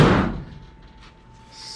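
The passenger door of a Factory Five 35 hot rod truck swings shut with one solid slam, followed by a short fading ring and quiet.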